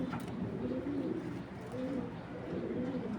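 Soft, low pigeon coos repeat in a steady rolling series, close by, over a constant murmur of background noise.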